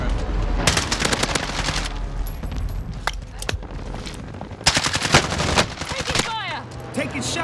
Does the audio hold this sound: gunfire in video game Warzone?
yes